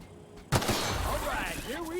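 A single sharp gunshot cracks out in The Outer Worlds as a shot is fired at a grate, then a ringing, tonal tail and game sounds carry on at steady loudness.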